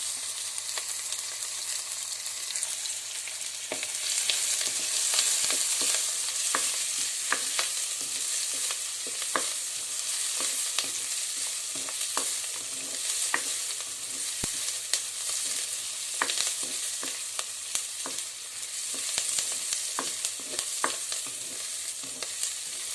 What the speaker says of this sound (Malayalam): ഞാൻ സവോളയും ഇഞ്ചിയും കൂടെ ഇട്ട് വഴറ്റിയെടുക്കുകയാണ്